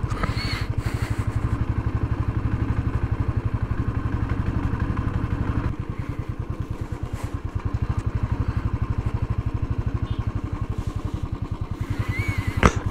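A Royal Enfield motorcycle riding on an icy winter mountain road, its single-cylinder engine thumping in a steady, fast, even rhythm, close and loud throughout with a brief dip in pitch midway, with no talking.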